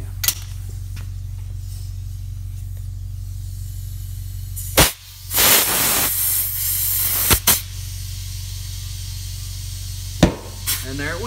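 Air hisses as a tire bead seats onto a beadlock wheel for a Polaris RZR Pro XP, with a loud burst of rushing air midway and a few sharp pops and bangs, over a steady low compressor-like hum.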